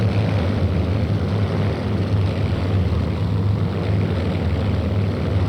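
A propeller aircraft engine drones steadily and loud while the plane descends, a constant low hum with a rough buzzing texture and no change in pitch, and no voices over it.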